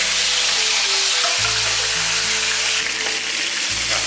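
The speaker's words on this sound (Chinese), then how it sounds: "热锅凉油，把鱼放下去煎。" A crucian carp is laid into a hot wok with cold oil and fries with a loud, continuous sizzle and crackle throughout, close up, with no talking.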